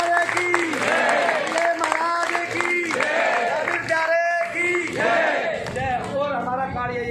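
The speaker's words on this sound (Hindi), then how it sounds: "से तालियां बजा दो।" A crowd at a religious gathering claps together with loud, excited chanting and cheering voices, an energetic, continuous roar that stays strong throughout with voices rising over it.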